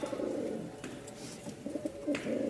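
Pigeons cooing at a pigeon market in Mirpur-1, Dhaka, a dense, steady chorus of soft low coos from many birds close by, with no talk.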